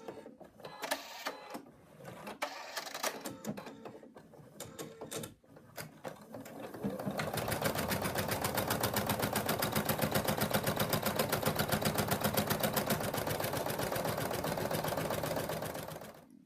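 Embroidery machine stitching out the first color outline of a mug rug on hooped stabilizer. Irregular handling clatter starts it off, then a steady, rapid, loud mechanical stitching rhythm runs for about nine seconds and stops.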